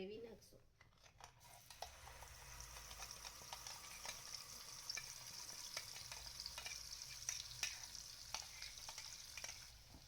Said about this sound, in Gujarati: તેલ ગરમ થાય એટલે તેમાં આપણે તૈયાર કરેલી ગ્રેવી નાખશું